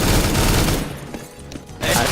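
Bursts of Negev machine gun fire in CS:GO, a loud dense rattle that eases off briefly in the middle and then surges again near the end.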